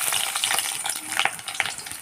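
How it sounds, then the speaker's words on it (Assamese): Onions sizzling and spattering steadily in hot mustard oil in a kadai for a curry of boroli fish with tomatoes, a dense crackling hiss with brief louder pops, close up and with no voices. "পুনৰ এখন কেৰাহী গেছত পাতি দিছোঁ আৰু মিঠাতেলখিনি গৰম হোৱাত মই ইয়াত পিঁয়াজ দি দিছোঁ"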